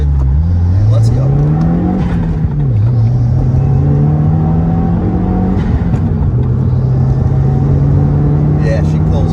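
A 2016 Subaru WRX with a manual gearbox rolls into acceleration on a test drive, its engine note loud and close, climbing steadily in pitch, dipping briefly at gear changes, then rising again under a constant rumble.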